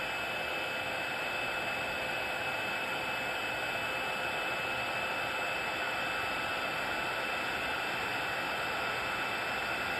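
A heat embossing tool blows hot air onto embossing powder spread over dark cardstock, giving a steady, unbroken whooshing hiss with a faint hum that holds level throughout.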